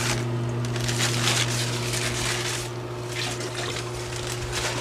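Water runs steadily into a graduated measuring container as it is rinsed during CNA clinical skills practice, a continuous close trickle over a low steady hum.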